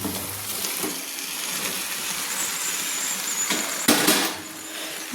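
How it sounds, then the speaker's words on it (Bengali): Pre-fried marinated chicken pieces go into hot masala in a pan, giving a steady gentle sizzle with a sharper burst of frying and clatter near the end. "সেই ভেজে রাখা চিকেনগুলো আমি মশলার সঙ্গে দিয়ে দিচ্ছি।"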